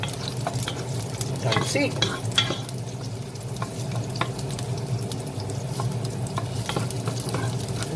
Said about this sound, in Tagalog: ilagay ang garlic. Gigisa tayo.